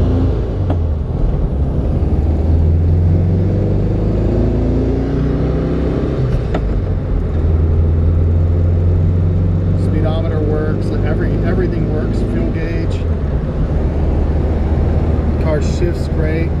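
A 1972 VW Beetle Convertible with its top up drives on a chilly day, its engine droning loud and close, with gear-shift surges in pitch and steady road noise throughout.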